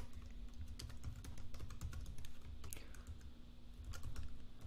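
Steady, brisk typing on a computer keyboard, many quick clicks in an uneven rhythm over a low background hum, close by with no voices.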